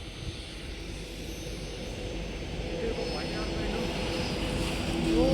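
An Indian Army airplane flies low overhead near Gurudwara Pathar Sahib in Leh, Ladakh, its engine roar building steadily and growing louder, with people talking excitedly under it.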